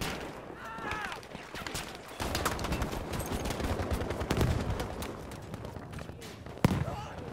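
Dense, overlapping gunfire and machine-gun bursts in Battlefield V, a steady rattle of many shots with a sharp louder crack near the end, while voices talk over the battle.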